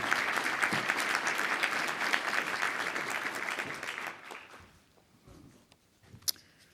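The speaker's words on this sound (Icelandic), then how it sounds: "það kemur mér eiginlega óvart að þið skuli klappa fyrir mér" Applause from an audience greeting a speaker, steady dense clapping for about four seconds that then fades to a few scattered claps and small room noises.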